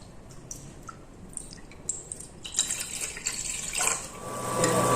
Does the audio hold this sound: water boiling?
yes